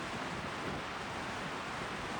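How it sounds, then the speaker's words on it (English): A Tennessee waterfall heard from a campsite: a steady, even rush of flowing water filling the whole clip, moderately loud with no pauses and no voices. "listening to the water."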